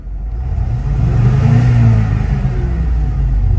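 A Ford F250 truck engine idles with a loud, low rumbling throb, close by and steady, briefly swelling midway before settling back.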